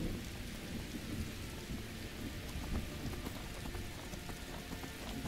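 Steady rain pouring down during a thunderstorm, a dense continuous hiss with a deep low rumble underneath, heard from indoors at moderate level with no voices.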